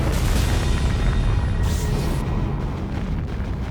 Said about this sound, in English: as an Atlas Agena rocket disintegrates in midair